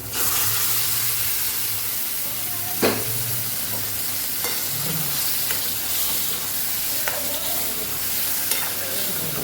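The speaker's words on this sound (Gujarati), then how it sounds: "અહીંયા સરસ તેલ છૂટું પડવા લાગ્યું છે, બટેકાને ઉમેરી દઈશું" Potatoes sizzle steadily in hot oil with gravy, with occasional clinks and scrapes of a utensil against the pan.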